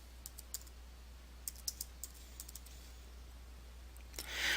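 A computer keyboard being typed on in a quiet room, giving sparse, faint, irregular key clicks and taps for a few seconds, ending with a soft rustle.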